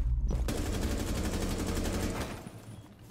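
A sustained, rapid stream of gunfire in a shooter video game, loud and continuous for a few seconds before tapering off, with no talking over it.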